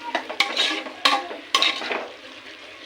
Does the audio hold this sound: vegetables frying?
yes